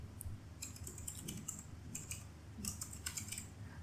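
Someone types on a computer keyboard while entering SQL code in Python. Quiet, close key clicks fall in irregular bursts with short pauses between them, and no one speaks.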